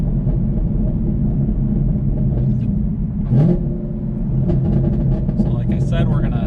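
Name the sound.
Camaro engine revving from 2,000 to 6,000 RPM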